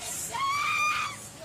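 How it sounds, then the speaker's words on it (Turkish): Someone shouts loudly in one sustained, high-pitched yell, close and strained, with faint background commotion. "Tamam bağırmayın hanımefendi, bu şekilde bağırmanız size bir şey ifade etmiyor."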